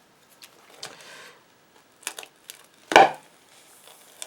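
A balloon set inside a plaster vase is cut, heard as a few soft, close snips and scratchy scrapes, then one sharper pop-like snap, all quiet and without talk.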